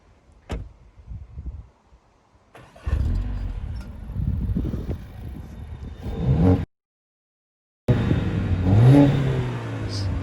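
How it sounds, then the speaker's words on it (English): A Mercedes-AMG A45 S engine idles in comfort mode with a low exhaust rumble, then revs briefly; after a short silence the engine rumbles again more steadily. "We're going to demonstrate you the sound of the A45S."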